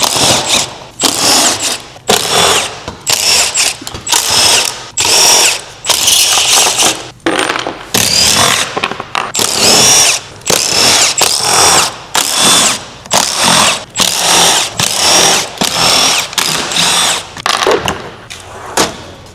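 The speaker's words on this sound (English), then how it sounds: "we're going to take our Torx bit, and there's all these black Torx all around this back panel here, and we're going to remove all of those" Impact gun with a Torx bit removing black Torx screws from a motorcycle's back panel: repeated loud rattling bursts, each a second or so long and separated by short pauses, close up and alone.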